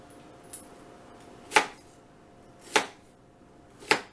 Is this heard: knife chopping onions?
yes